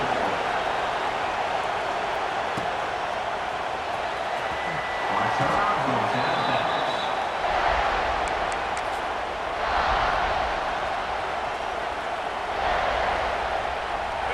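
A stadium crowd in the EA Sports College Football 26 video game keeps up a steady, dense roar, swelling louder several times as the home fans get behind their team.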